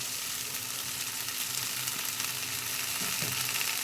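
Shelled, washed green peas are tipped into spices already frying in a pan for matar paneer, raising a steady, dense sizzle with a brief louder burst near the end.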